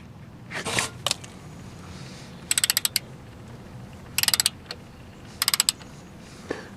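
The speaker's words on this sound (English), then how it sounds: "put the 8mm fastener back on" Ratcheting clicks of a socket wrench tightening the 8mm fastener on a front ABS wheel speed sensor, outdoors in a backyard: three or four quick, close bursts of sharp clicks with short pauses, plus a couple of isolated clacks.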